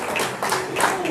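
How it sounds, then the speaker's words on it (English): A crowd at a school retired-staff award ceremony applauds, a steady wash of many hands clapping at once, fairly loud and sustained. "Give her a round of applause."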